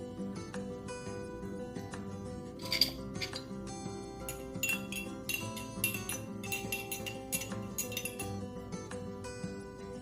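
A spoon stirs food colouring in a glass, producing rapid, continuous clinking and tapping against the sides. Bright chimes and a steady ringing tone carry through the full ten seconds.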